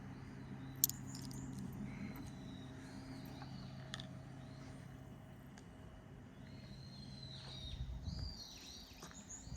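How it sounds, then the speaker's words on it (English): Faint, scattered bird chirps ring out over a low steady hum in Japan, a few sharp calls here and there against quiet background noise. "I can hear the birds chirping."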